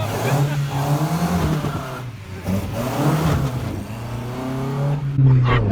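A Datsun 510 with an L18 engine, individual throttle bodies and fuel injection drones steadily while being driven, its low engine note rising and falling under ongoing conversation from the people in the car.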